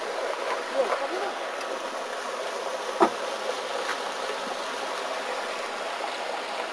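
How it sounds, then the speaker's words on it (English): A tiny three-inch waterfall trickles outside a motel in Vermont, a faint, steady hiss of running water lasting throughout, with a soft tap near the middle and a light insect-like buzz mixed in. "you can hear a little 3-inch waterfall"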